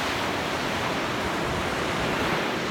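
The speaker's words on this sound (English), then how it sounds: "This is the ocean." Ocean waves break on a Long Island beach near Long Beach, a loud, steady wash of surf filling the air with constant broadband roar and no voices.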